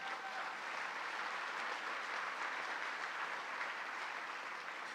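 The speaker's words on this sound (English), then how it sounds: "Let's give them all a round of applause." Round of applause at a New York City Mother Cabrini memorial event, a dense, even wash of clapping from a crowd, steady throughout and faint, as if heard from a distance.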